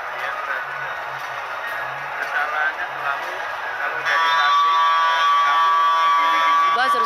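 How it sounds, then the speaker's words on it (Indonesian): A time-out buzzer sounds during a women's basketball game between Central Java and West Java at PON XX Papua 2021. It gives a loud, sustained electronic tone over crowd noise in an indoor arena. "buzzer sudah menyala, artinya time out sudah berakhir"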